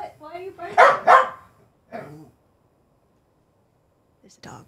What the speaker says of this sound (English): Can you guys hear the dog behind me?